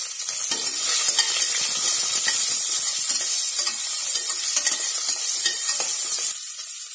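Asafoetida and turmeric powder hitting hot oil for sambar, giving a steady, bright sizzle and crackle up close that holds for several seconds before easing slightly at the end.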